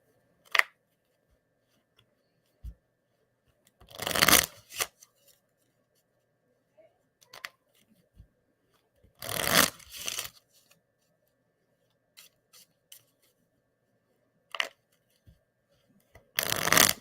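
Playing cards being pulled from a deck and handled during a tarot-style reading, with short crisp slaps and shuffling rustles in separate bursts amid near silence.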